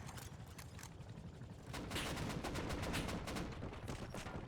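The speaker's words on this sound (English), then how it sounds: "Oh, shooting at me." Rapid gunfire in a video game aimed at a helicopter crackles in quick bursts, faint at first and then growing denser and louder through the second half.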